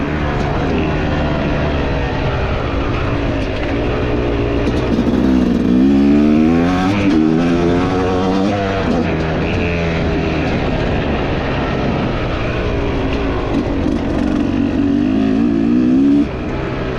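A 2025 Fantic XE300 motorcycle engine pulls hard under acceleration, its pitch rising and falling through gears in a steady, loud, close drone with wind rush over the top and no talking.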